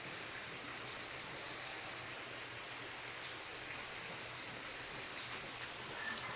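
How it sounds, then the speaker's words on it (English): A creek running at normal level rushes steadily during a morning walk, a continuous close wash of water with no voices over it. "And our creek is running normal"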